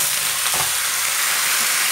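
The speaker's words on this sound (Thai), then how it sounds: "แล้วก็ผัดไปเรื่อยๆนะคะ" Vegetables and pork stir-fry in a hot pan, giving a loud, continuous sizzle with a brief scraping stir near the start.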